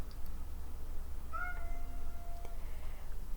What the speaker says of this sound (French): le chat de ma fille s'exprime